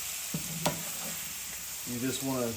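Onions fry in a skillet with a continuous close sizzle, a couple of light clicks from stirring, and someone talking briefly toward the end, in a beef liver and onions with gravy dish.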